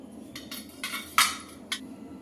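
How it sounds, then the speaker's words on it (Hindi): Metal idli mould stand handled in a kitchen, a series of sharp metallic clinks and clanks, about five separate knocks with one louder clang near the middle, close and otherwise quiet. "अब यहाँ पे हम इडली फार्म ले लिए हैं।"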